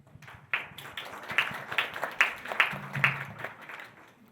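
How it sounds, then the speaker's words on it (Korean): Conference audience claps for a speaker from Shinhan Futures Lab at a startup event, applause swelling in sharp bursts after a brief lead-in and carrying steadily to the end. "다음으로 신한 퓨처스랩 김영민 팀장님을 큰 박수로 모시겠습니다."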